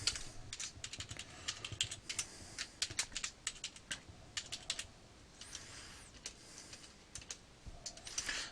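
A password is tapped out on a computer keyboard in quick, uneven bursts of close, crisp keystrokes with brief pauses between runs, no voices present.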